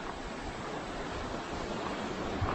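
A river flows in front of a path near Gunung Tidar in Java at night, a steady, soft broadband rush of water with no voices.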